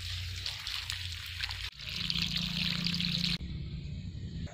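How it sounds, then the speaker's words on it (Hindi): Water is poured onto freshly sown spinach seeds in a home pot or bed, making a steady splashing trickle that runs in three sections with brief breaks and stays moderately close. "तो यार बीज लगाने के बाद ना हम इनको पानी लगाते हैं।"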